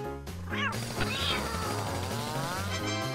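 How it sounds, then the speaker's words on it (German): Kittens meow at a workbench while an indoor bunk bed is being built, with high, wavering cries repeating over a steady backdrop of tonal music. "Anscheinend wollen uns die Kätzchen helfen."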